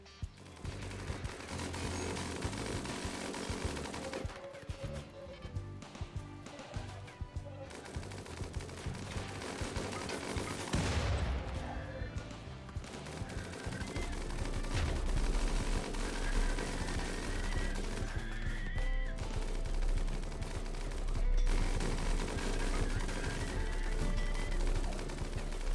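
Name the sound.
mini turret gunfire in the video game RimWorld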